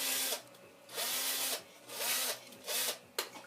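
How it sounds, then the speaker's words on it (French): A cordless power screwdriver drives screws in several short bursts, each whirring for about half a second with pauses between, close and loud, with no talking. "Le marteau, la visseuse, On visse."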